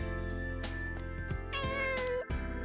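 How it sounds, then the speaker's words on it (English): A cat meowing in a video game, a few clear drawn-out meows close up over steady game music, with percussive clicks and thumps throughout. "There's a cat here."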